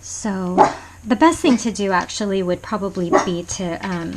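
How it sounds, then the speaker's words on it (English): A pet dog huffs and lets out soft woofs in a room behind a person who keeps talking steadily, the dog sounds faint and partly buried under the voice. "I'm so sorry about my dog huffing behind me"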